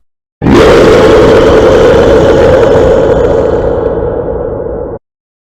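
A loud, sustained guttural roar erupts abruptly and holds for several seconds at full strength before cutting off; a voice imitating a monster growl.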